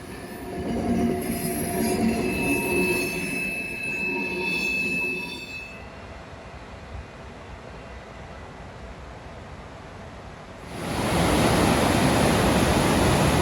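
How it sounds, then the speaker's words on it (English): A Flåmsbana train passes in a snowy winter valley, its wheels squealing and rumbling loudly before fading away, then a rushing broadband roar swells up near the end. "And here again I had luck to see the Flamsbana train."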